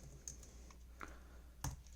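Typing on a computer keyboard during a PyTorch coding session: a few sparse, faint key clicks spaced irregularly, with a slightly louder tap near the end, over a quiet room hiss.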